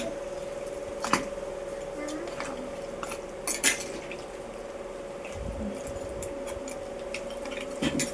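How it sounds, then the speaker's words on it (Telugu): Spices such as coriander powder and fenugreek powder being stirred into mutton gongura curry in a clay pot, with a few scattered clinks and scrapes of a utensil against the pot over a steady background hum. "ఇదంతా ఒకసారి మిక్స్ చేసుకుందాం."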